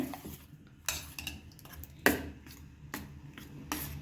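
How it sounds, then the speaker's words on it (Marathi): Ground wild leafy greens (chandan batwa) being mixed with gram flour in a bowl, heard as a series of close, fairly soft scraping and tapping knocks of a spoon against the vessel at an uneven pace, no talking. "आता आपण हे छान मिक्स करून घेऊया."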